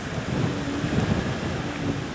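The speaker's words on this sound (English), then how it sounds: "the wind's blowing up, so I'm going to have to let go" Wind blowing outdoors by an archway at a castle, a continuous loud roaring rush of buffeting gusts with heavy microphone rumble and no voices.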